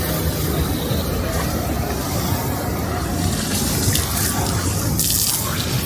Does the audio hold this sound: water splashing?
yes